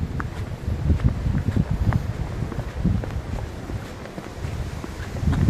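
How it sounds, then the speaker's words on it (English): Strong gusting wind on an exposed mountain hiking trail along an old military road, buffeting the microphone with a steady low roar that swells and dips, with no voices. "It is so windy right now."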